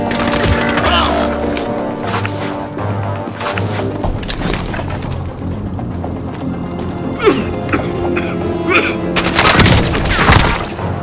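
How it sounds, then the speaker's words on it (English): Video game gunfire crackles in repeated bursts and volleys, with a sharp spike of shots near the end, under a steady layer of game sound and voices. "I'm under fire"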